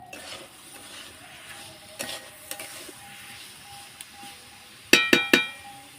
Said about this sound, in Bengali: চিনিটা আমি ভালো করে গালিয়ে নেব একটু।